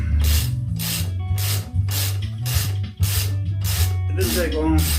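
Steady ratcheting clicks from a ratchet loosening the front wheel of a KLR650 motorcycle, a close, regular train of strokes repeating in quick rhythmic bursts over a low background hum.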